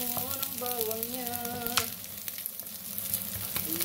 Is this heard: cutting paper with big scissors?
no